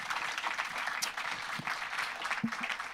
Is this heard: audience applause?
yes